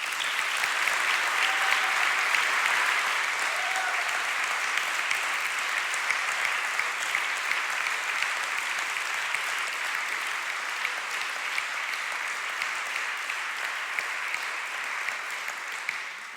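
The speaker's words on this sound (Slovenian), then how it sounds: "Prosim, namenimo jim en velik aplavz." Sustained applause from a ceremony audience for performers at a municipal holiday celebration in Sevnica, a steady dense wash of clapping lasting throughout, fairly even in level with no voices.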